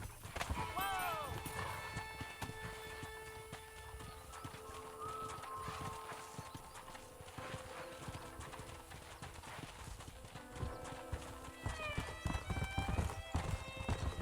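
Hooves clatter in a rapid, continuous rhythm as a pack of wild horses runs in Red Dead Redemption, with occasional neighs and whinnies, over a layer of outdoor background sound and some talk.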